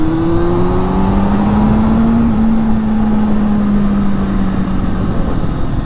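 A Honda Hornet 600 motorcycle is ridden through woodland, its engine note rising and holding through the gears in a loud, close, continuous whine with wind rush and no speech.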